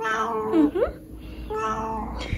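A cat meows a few times, with someone speaking warmly nearby between the calls.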